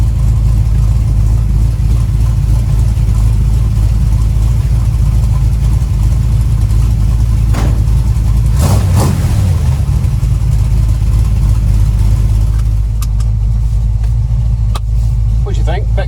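A 1936 Chevy coupe fitted with glasspack mufflers drives along, its low engine drone loud and steady throughout, with a brief swell midway and a few clicks near the end; speech is faintly present.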